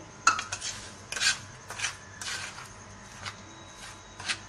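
Flour and semolina are mixed by hand in a bowl, producing intermittent dry scraping and rubbing strokes with occasional light clinks, close and fairly quiet.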